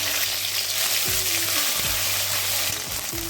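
Cumin tempering with chopped ginger and green chilli crackles and hisses loudly in hot oil, a dense continuous sizzle with a few low sliding tones running underneath.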